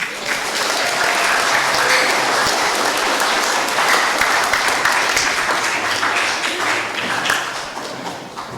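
A church congregation at Mass applauding the choir steadily, dense clapping that holds for several seconds before tapering off slightly at the end.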